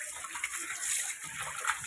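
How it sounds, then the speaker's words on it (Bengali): Water runs steadily from a tap over coriander leaves being washed, a close, continuous splashing hiss with slight sloshing variations. "ধনে পাতা ধুতে প্রচণ্ড জল লাগে"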